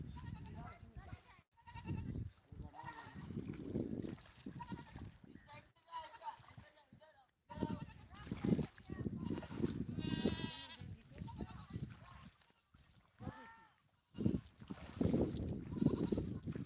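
Goats bleat repeatedly nearby while people shout and call out to herd them along.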